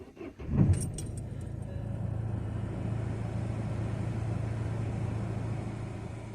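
Keys jangle, then a car engine cranks and catches, settling into a steady, close idle that hums on evenly to the end.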